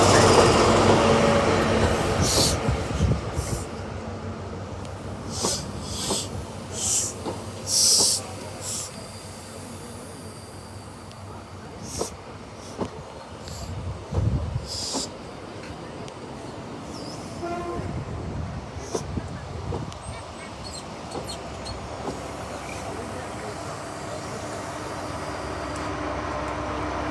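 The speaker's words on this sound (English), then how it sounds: "Here is our next train arriving into Stigumber, which is a GWR Class 43 HST, otherwise known as a castle train." A GWR Class 43 HST diesel train pulls into a station during a summer diesel festival, with a steady loud rumble, rail clatter and brief squeals as it arrives.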